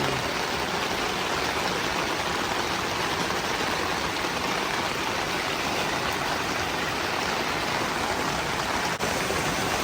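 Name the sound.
rainwater flowing into a subdivision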